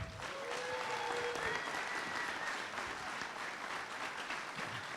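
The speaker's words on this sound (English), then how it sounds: "big round of applause for Senate Majority Leader Jeb Bradley" Crowd applause at a campaign bus tour kickoff event in Exeter, New Hampshire, a steady wash of many hands clapping that fills the whole stretch at moderate distance, with a few faint whistles or calls and no speech over it.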